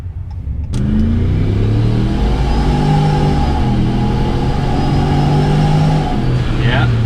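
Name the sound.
car with ProCharger supercharger accelerating under full boost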